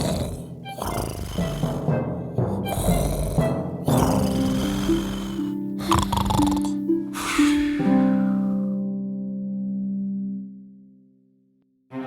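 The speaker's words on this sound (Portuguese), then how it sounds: "E então ele começou a roncar para enganar as princesas." A cartoon character snores in an animated princess story, several loud, drawn-out snorting breaths in a slow rhythm that fade into a long, steady tone before a brief silence.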